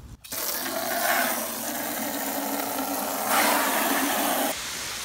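A snow foam sprayer fed by a hose hisses steadily while foaming the wheels of a BMW M3. There is a brief start, then a continuous close spray that swells louder near the end and then tails off.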